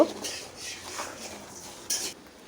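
Blended mustard paste with ginger, garlic, dried red chilies and salt being stirred in a pan or bowl for mango pickle. A few brief metallic scrapes and clinks of a utensil sound up close over about two seconds.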